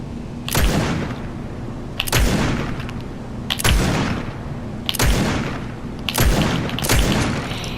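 Booming shots from a slow-firing legendary gun in the Fortnite video game, six heavy reports spaced roughly a second and a half apart, each loud and close with a short decaying tail.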